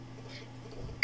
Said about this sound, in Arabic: كما تسمعوا بواحد الرساله تجيك في الهاتف ديالك